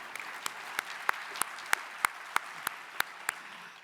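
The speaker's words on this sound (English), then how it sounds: "I think we should applaud that." A ceremony audience at a living legends award event applauding, a thin, evenly paced clapping of roughly ten sharp claps in under four seconds over a quiet room, with no voices.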